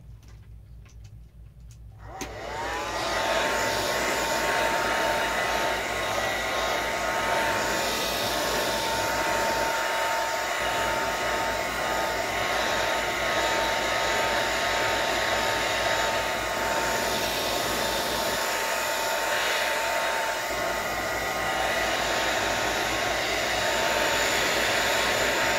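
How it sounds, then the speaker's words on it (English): A hair blow dryer runs steadily for over twenty seconds, drying acrylic paint on a mixed-media art journal page; after a brief quiet start it switches on and holds a loud, even whooshing whine near the microphone. "we're going to get our blow dryer back on and we're going to dry this whole thing."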